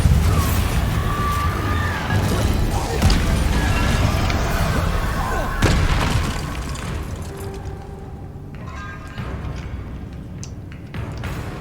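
Bombarda spell explosions in Hogwarts Legacy: a series of loud booming blasts and crashing impacts over a busy rumble, strongest early, then thinning out into quieter scattered pops and debris.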